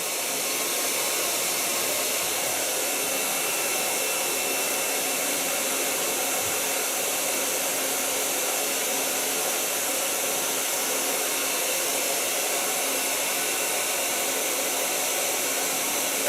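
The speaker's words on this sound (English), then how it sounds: "make sure they don't move when you blow dry" A hair dryer blow-dries natural curly hair without a diffuser, giving a steady, loud, continuous whooshing roar that holds unchanged for the whole stretch with no voices.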